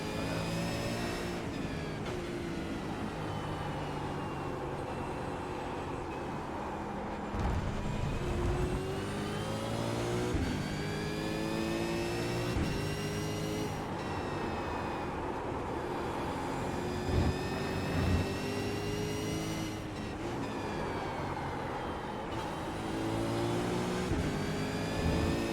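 A powerful race car engine in iRacing revs and accelerates through repeated gear changes, loud rising harmonic whines climbing in pitch, dropping at each shift and climbing again, continuous throughout.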